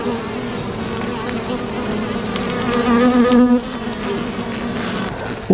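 Honeybees buzz in a dense, continuous drone around an open hive frame, loud and close, swelling briefly toward the middle, with no talk.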